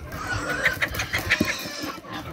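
A rooster clucks and makes short, throaty calls close by, with a few soft rustles and thumps in the background.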